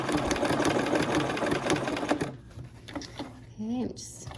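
A sewing machine stitching fabric for a Christmas garland runs in a fast, steady close whir for about two seconds, then stops; quieter handling sounds and a voice follow.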